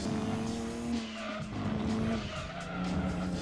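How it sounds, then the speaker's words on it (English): A race car engine roars steadily while tires rumble and chatter over rough curbing, with brief squealing, close and loud throughout, in Gran Turismo 2. "If there's one sound effect they've got absolutely spot on in Gran Turismo, it's the curb noises"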